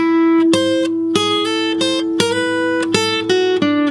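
A slow guitar lick built on the melodic minor scale, with single notes picked one at a time at an unhurried, even pace. Each note rings clearly and up close, with no talking over it.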